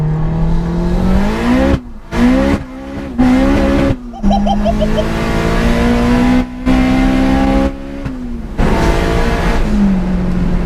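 A turbocharged 377 BHP Honda DC5 accelerates hard along a country road, its engine note climbing through the revs in repeated surges, with brief drops at gear changes, loud and close from inside the car.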